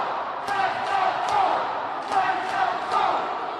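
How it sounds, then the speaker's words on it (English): Crowd noise at a charity basketball game between two local TV station teams in Southfield, Michigan, a steady roar that swells in waves, with sharp ball bounces or slaps and shouting mixed in. "Just listen to this crowd."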